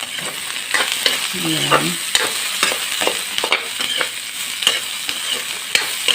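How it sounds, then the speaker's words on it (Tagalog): Carrots sauté in a hot pan with a steady close sizzle, broken by repeated scraping and stirring strokes; a voice briefly speaks once. "Gisahin din natin yung carrots natin."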